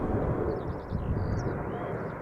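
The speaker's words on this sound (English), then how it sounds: "Triple 7-200 outbound to Bangalore." A KLM Boeing 777-200 airliner departs Schiphol Airport with a steady, loud, broadband engine roar, continuous and close, with some wind buffeting.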